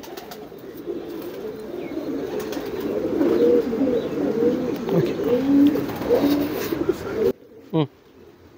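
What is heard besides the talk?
homing pigeons cooing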